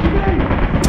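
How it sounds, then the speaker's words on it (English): A turret in Lethal Company fires a dense, continuous burst of rapid gunfire, loud and close, rattling steadily for just under a second before a sharp high crack at the end. "I think he found a turret."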